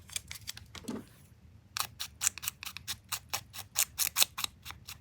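Scissors snip through washi tape in a long run of crisp, close, rhythmic cuts, a short burst at first, a brief pause, then steady repeated snips with no talking.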